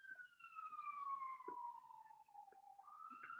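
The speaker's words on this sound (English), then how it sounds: "a siren's going by. It's an ambulance." An ambulance siren passes by at a distance, a faint, steady wail that slowly drops in pitch, then rises again near the end.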